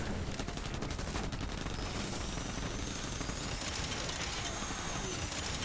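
A battle mech in Borderlands 3 fires its weapons in a dense, continuous barrage of rapid gunfire and mechanical clatter over loud game noise, with bursts of rattling shots in the first seconds.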